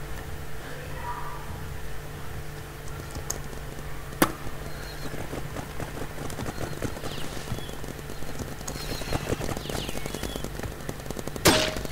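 P90 gun firing in the Roblox paintball game Big Paintball, rapid rattling bursts of shots in quick succession with louder single cracks, close and sustained over a low hum, without talk.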